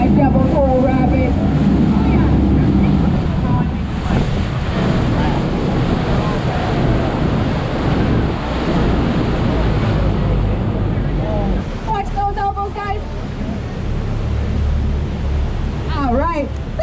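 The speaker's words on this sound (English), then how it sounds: "Welcome to our class 5 double pole rapid." Roaring rush of class 5 whitewater rapids on a Niagara jet boat tour, steady loud churning water with heavy wind buffeting, brief shouts and excited voices from passengers breaking through.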